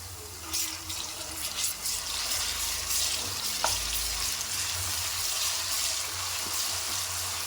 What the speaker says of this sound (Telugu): పచ్చివాసన పోయే వరకు ఫ్రై చేసుకోవాలి